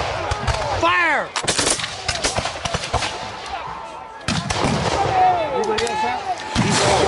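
Musket volleys from Revolutionary War reenactors crack out in loud, ragged bursts of overlapping shots in the open air, with shouted commands and voices between the firing.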